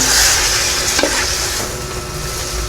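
Fried pork and garlic are stirred in a hot pan, giving a steady close sizzle with scraping strokes of a utensil, loud and continuous with no voices.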